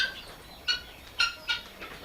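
Chickens on a poultry farm give a few short, separate clucks, spaced unevenly over a low steady background hum and fairly faint.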